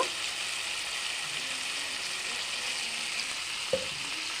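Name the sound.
spices and melon seeds being fried and stirred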